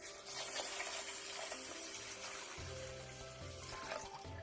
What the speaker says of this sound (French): Et égouttez-le 3-4 fois pour enlever le surplus d'amidon.